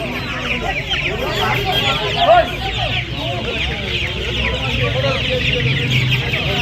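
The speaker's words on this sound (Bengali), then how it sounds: "দেখতে পাচ্ছেন অস্ট্রেলিয়া মুরগির বাচ্চা আছে দেখুন।" Australorp chicks cluck and chirp continuously at the Uluberia market, with a hubbub of crowd noise and voices around them.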